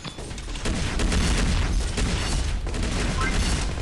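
Heavy, booming explosions from a Siege Mode rocket gauntlet in Pixel Gun 3D, firing in a dense continuous barrage of loud blasts that rumble together without pause.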